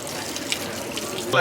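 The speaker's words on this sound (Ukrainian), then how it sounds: "на кожному кроці є фонтанчики хорошою питьовою водою." Water runs steadily from a public drinking fountain on a street in Rome, a continuous close splashing stream with a brief louder burst at the end.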